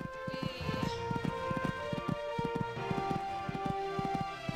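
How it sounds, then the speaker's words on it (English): A horse galloping in the video game Horse Olympics, rapid rhythmic hoofbeats pounding steadily and close over a bed of looping game music, with no one talking. "Galloping along nicely now."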